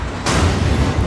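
Sudden loud, broadband blast from a nuclear reactor explosion at Chernobyl's Reactor 4, cutting in abruptly after brief quiet and sustaining a heavy, rumbling roar to the end, without any voices.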